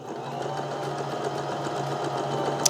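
A Baby Lock Zest home sewing machine stitching stretchy fabric, a steady close mechanical whir with a fast even rhythm running throughout, no talk.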